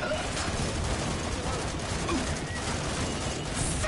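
Dense video game gunfire in a zombie-shooting match, a continuous rattling fusillade of shots that is loud and sustained throughout, with a voice talking over it.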